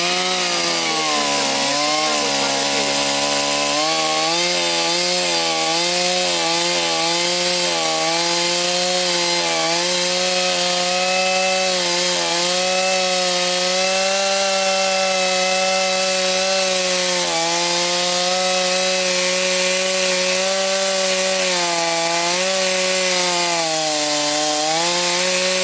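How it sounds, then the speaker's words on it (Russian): A chainsaw cuts a directional notch into a tree trunk, its engine droning loud and close for the whole stretch. The pitch bogs and rises repeatedly as the chain bites into the wood. "нам нужна вот эта пила. Итак, мы делаем надпил"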